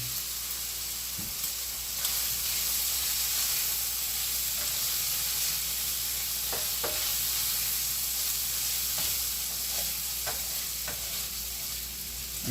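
Food fries in a pan with a steady, close hiss and sizzle throughout, broken by a few light clicks and scrapes of stirring.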